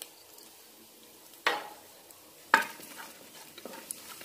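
Whole spices, cinnamon pieces, cloves, cardamom and star anise, dropped into a hot pan for a vegetable pulao, two sharp bursts of sizzle and clatter followed by light stirring and soft frying.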